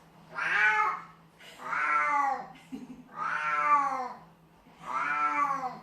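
A house cat meows four times at a slow, even pace indoors, each call drawn out and clear, with a quiet steady hum underneath and no talking.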